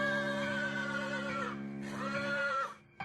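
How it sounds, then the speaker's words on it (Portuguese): Two loud, drawn-out horse whinnies, close by and quavering, one after the other with a short pause between. "Mas logo ouvi um alto relincho."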